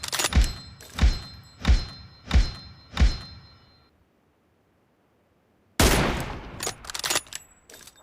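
M24 sniper rifle shots in the mobile battle game BGMI: five sharp, evenly spaced cracks, a brief silence, then a loud burst of further shots and impacts, with no speech.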